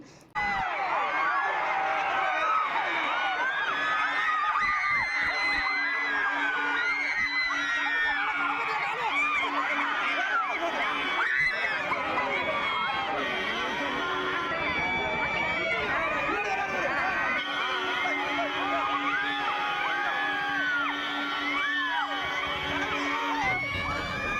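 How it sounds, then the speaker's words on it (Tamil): A large outdoor crowd in Thiruvarur shouts and cheers loudly as actor Vijay's vehicle arrives, with children yelling, excited chatter and a dense, continuous roar of voices throughout. "அந்த வண்டியை பார்த்ததும் எல்லோரும் விஜய் தான் வர்றாரு அப்படின்ட்டு பயங்கரமாக சத்தம் போடவும்,"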